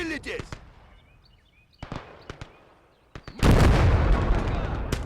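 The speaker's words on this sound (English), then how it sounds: "that machine gun on the Marder is helping quite a bit" Machine-gun and field-gun fire from a Marder in the video game Gates of Hell on the Eastern Front: scattered sharp gunshots, then a heavy sustained burst of rapid fire that dominates the last seconds.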